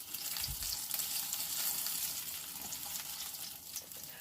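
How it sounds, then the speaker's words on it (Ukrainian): Ukrainian cottage cheese pancakes (syrnyky) sizzle and crackle steadily in hot oil, a continuous close frying hiss with no voices. "Поки я смажу першу порцію сирників"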